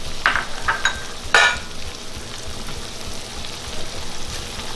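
A pot of cornstarch-thickened sauce for homemade poutine is stirred, giving a few scraping, bubbling clicks early on over a steady soft simmering hiss that then carries on quietly alone.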